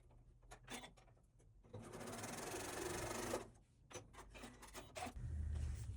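A sewing machine stitches the corners of a fabric pincushion, running in short bursts with one longer steady run in the middle, fairly quiet and close, with small handling sounds between.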